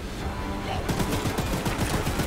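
Heavy gunfire from big guns in the game Choo-Choo Charles erupts about a second in, a dense, loud, rapid volley of close shots continuing to the end, with no talk over it.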